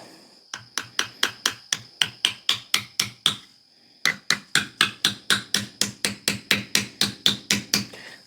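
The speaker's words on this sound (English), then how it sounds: "the reason I like starting off with a smaller hammer is I'm trying to drive it in so it's lining up the right way" A smaller hammer drives an axe head onto a carved wooden handle in a steady series of sharp, ringing strikes, two bursts of about a dozen blows each with a short pause between, close and loud with no talking.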